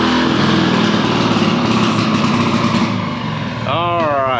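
The engine of an old Harley golf cart, still in need of a new muffler, chugs loudly at close range, then eases off near the end as a person starts talking.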